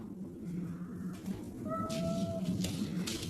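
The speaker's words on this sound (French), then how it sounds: "Ça, c'est minou." A cat gives a single drawn-out meow, clear and fairly close, over a low background hum.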